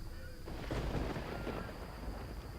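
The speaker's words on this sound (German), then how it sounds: "Naja, Blitz und Donner, schön für euch." Thunder in the video game Risen 3, a deep rolling rumble that swells and then slowly fades, heard alone without talk.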